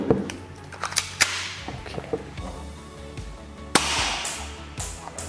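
A KWC K17 (Glock 17 Gen2 model) airsoft pistol firing 0.20 g BBs through a chronograph, a few sharp separate snapping shots with mechanical clicks and handling noise between them.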